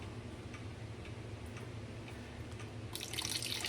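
Water is poured into blueberry wine must, a soft hissing splash that starts late after faint irregular ticks and drips, close and fairly quiet.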